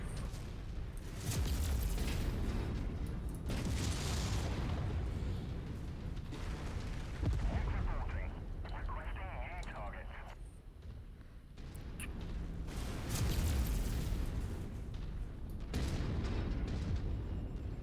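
Autocannon shots and target explosions boom in a MechWarrior game, LBX fire and destroyed targets, heavy rumbling blasts and mechanical clanks rolling in dense waves over continuous battle noise.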